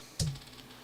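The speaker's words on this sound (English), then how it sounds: "So I got to type it in here." A single keystroke on a computer keyboard while entering a street address, a short sharp click with a brief low thump, close and alone against quiet room tone.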